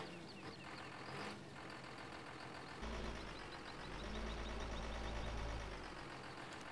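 A John Deere 8530 tractor hitched to a Krone Swadro windrower in Farming Simulator 15 runs with a steady engine drone. A deeper rumble swells partway through, and faint beeps and hissing sit on top.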